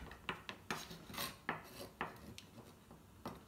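A knife chopping pumpkin into cubes on a cutting board, a series of sharp, close knocks and scraping cuts in an irregular rhythm, fairly quiet with no talking.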